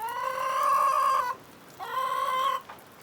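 A chicken clucks in two drawn-out, nasal bursts with a short gap between them, close and fairly loud, in a home setting during animal training.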